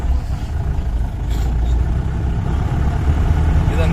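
Four-wheel-drive vehicle climbing a forest road up toward the Silent Valley peak, its engine holding a heavy, low, steady labouring drone that grows slightly louder partway through.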